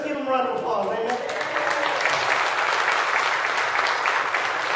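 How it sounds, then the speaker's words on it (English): A church congregation at a worship service breaks into sustained applause, a loud, even roar of many hands clapping for nearly five seconds, with voices calling out underneath. "Let's give them a round of applause."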